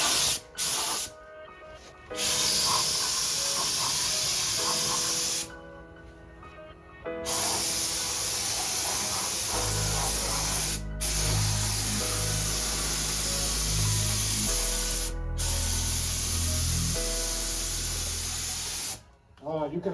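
A spray gun lays base-coat car paint with sparkle in it, giving a loud, close, continuous hiss in several long passes separated by short pauses, and a low motor hum joins in partway through.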